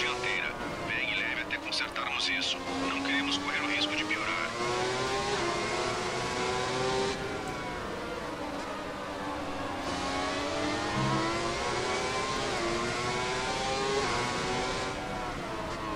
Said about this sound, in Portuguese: esse carro, galera, foi o último da Fórmula 1 a usar um motor V12